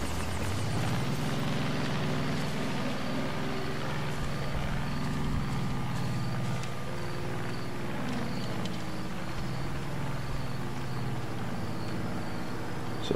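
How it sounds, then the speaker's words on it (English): Propeller airplane flying overhead in the video game Far Cry 5, a steady droning engine hum that swells slightly and fades over open countryside, with no talking. "So that's a friendly plane."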